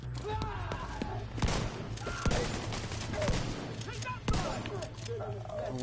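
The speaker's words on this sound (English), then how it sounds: "Say hello to my shotgun." In the video game The Division 2, a shotgun and other gunfire crack out in several sharp, heavy blasts over a low rumbling background, with speech running beneath.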